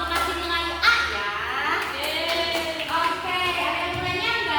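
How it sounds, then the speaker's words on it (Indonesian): Students in a classroom clap briefly in a scattered, light burst while voices carry on over and around it, the clapping soft and mixed under ongoing talk. "Tepuk tangan buat kita"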